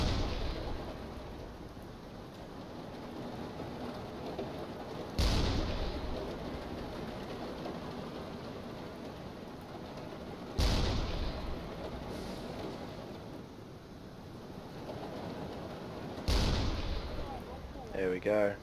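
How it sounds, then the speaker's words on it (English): A submarine's deck gun firing shells in the video game UBoat: four heavy booms spaced about five seconds apart over a steady rumbling sea-and-wind background. "Oops, there we go, that shell landed short. Hopefully I'll hit something flammable on their deck."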